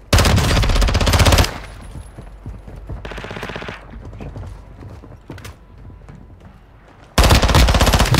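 Automatic weapon fire in the Call of Duty DMZ video game, loud sustained bursts at the start and end framing a quieter stretch of scattered shots, clanks and mechanical sounds.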